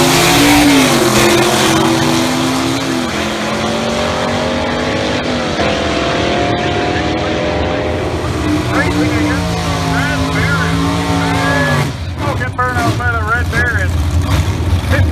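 A 1955 Chevrolet and another drag racing car stage at the start line of a drag strip, engines rumbling and revving loudly throughout, with an announcer talking over the constant roar.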